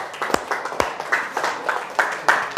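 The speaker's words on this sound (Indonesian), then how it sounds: "Oke, kasih tepuk tangan dulu untuk kalian semua." Audience applause for students in a teacher-training class session, with scattered hand claps building into a fairly close, uneven patter of clapping and no talk over it.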